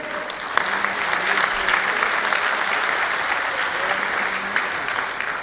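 An audience at a Haryanvi poetry show in Dubai claps for the poet Sunder Kataria, sustained, brisk clapping at a steady level for several seconds with occasional sharper claps and low voices beneath.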